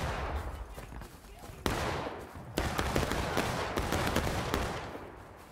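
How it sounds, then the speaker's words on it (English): Incoming musket fire in the Civil War game War of Rights, a dense fusillade of overlapping gunshots with sharp individual cracks that keep coming throughout, fairly loud over a rumbling battlefield bed. "Oh, that is a lot of incoming fire."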